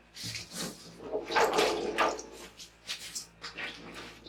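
Small potatoes are swished around in water for washing at an outdoor rocket-stove cooking spot, giving irregular sloshing and splashing that swells in the middle and comes in fainter bursts toward the end, with no talking.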